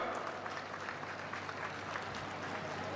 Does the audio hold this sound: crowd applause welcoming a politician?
yes